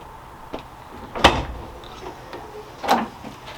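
Rear door of a Fiat Ducato campervan fitted with a solid spare wheel carrier is worked by hand, giving a couple of sharp metallic clunks and latch clicks with lighter rattles between them, close and otherwise quiet.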